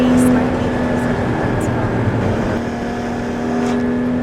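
A Porsche Panamera with a new exhaust rumbles steadily up close, a constant low engine drone with a faint tonal whine throughout, no revving peaks and no voices.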